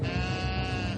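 Sheep bleat loudly and steadily, a dense, continuous chorus of a flock guarded by Anatolian shepherd dogs, with no pauses across the whole second.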